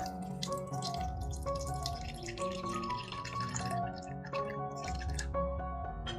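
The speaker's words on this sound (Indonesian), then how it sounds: "lalu beri air secukupnya" Water is poured into a bowl of spice marinade for tempeh, making a continuous, fairly faint trickling and dripping with ringing tones, and no one speaks.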